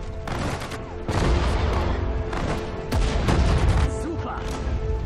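Dense gunfire and heavy explosions in the World War II strategy game Sudden Strike 4 (Road to Dunkirk expansion), with repeated booming blasts and rattling shots running continuously at close, loud range.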